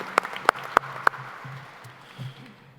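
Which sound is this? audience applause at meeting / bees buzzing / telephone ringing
audience applause at meeting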